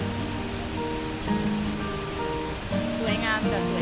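A waterfall in Norway gives a steady, broad rush of falling water that fills the background while a woman sings over it.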